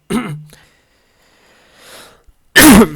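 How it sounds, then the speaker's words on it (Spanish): A single sharp cough near the end after a brief voiced sound and quiet pause; close and loud. "me dio la tos"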